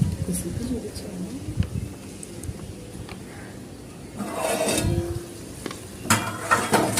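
A vegetable curry being stirred in a pot as tamarind pulp goes in, with scraping and clinking of the spoon against metal, louder bursts near the middle and end over a steady low background.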